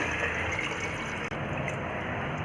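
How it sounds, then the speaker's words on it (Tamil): Water pours steadily into a pot for mutton chest bone soup, a dense continuous rushing splash with one brief break midway, nothing else heard. "இப்போது அரை கிலோ கறிக்கு நாங்கள் வந்து எட்டு டம்ளர் தண்ணி வந்து ஆட் பண்ணுறோம்"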